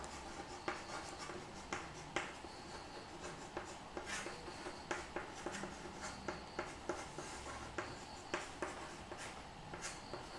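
A pen writing numbers on paper for a maths lesson, close and quiet, with steady rhythmic scratching strokes and little taps repeating throughout, no voice.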